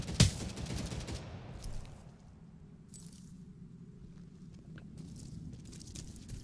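Gunfire suppression effect in Direct Contact, set in Afghanistan: a sharp loud crack opens onto a washing, rumbling roar that fades into a low hum, with faint distant shots and shuffles following.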